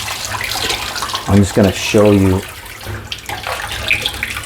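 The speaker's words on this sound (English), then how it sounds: "you're going to give it a good rinse again with hot water, 120-degree water" Hot water at about 120 degrees splashes and runs over a PD 590 electronic air filter cell being rinsed, a steady broadband rush of water under someone talking.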